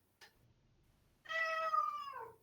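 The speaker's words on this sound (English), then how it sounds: "the cat has something to say too" A house cat lets out one clear, drawn-out meow close by, preceded by a tiny chirp and heard alone in a quiet room.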